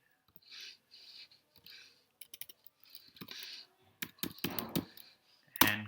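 A git command being typed on a computer keyboard, quiet soft key presses in small clusters that become a quicker run of sharper clacks near the end, close by.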